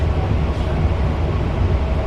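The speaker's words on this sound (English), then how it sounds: "See how that train's crawling?" A train crawls slowly past a railroad crossing, a loud, steady low rumble and rolling drone that holds constant and close throughout.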